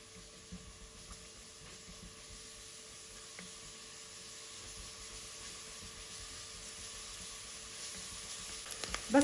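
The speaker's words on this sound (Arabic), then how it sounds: "منقلل بصلة" Onion frying in about four tablespoons of vegetable oil in a pot, a quiet continuous sizzle heard alone with a few brief clinks near the end.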